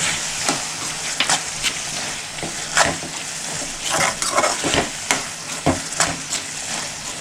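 Mushrooms fry in a pan with fennel and pepper, giving a steady close sizzle broken by frequent scraping stirs of a spoon, with no talking.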